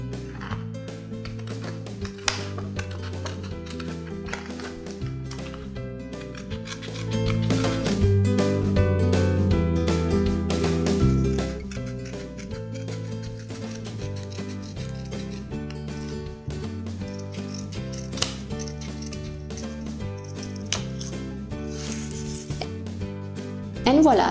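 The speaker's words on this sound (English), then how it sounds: "It's very easy to cut intricate shapes if you do tiny little cuts and you move your photo into your scissors." Small detail scissors snip a photo in a series of tiny, quick cuts, giving soft close rubbing and clipping sounds with a short louder stretch in the middle.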